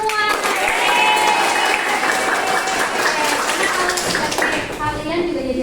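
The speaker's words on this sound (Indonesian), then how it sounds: "Sekarang tepuk tangan untuk kita semua." Dense, steady applause from an audience of students in a classroom during an accounting lesson, loud and close throughout, with children's voices calling out over the clapping.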